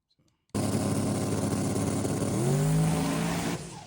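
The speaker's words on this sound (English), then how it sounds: "Oh, we blew the tires." A drag race car with blown tires, its engine roaring loud and close after a sudden start, rising pitch as the tires spin, then cutting off near the end; no speech.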